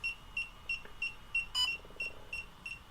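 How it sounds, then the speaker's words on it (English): DJI Neo drone giving a steady string of short, bright pairing beeps at an even rhythm, about three per second, close and clear, with a brief louder chirp midway and no talk. "We should hear beep beep."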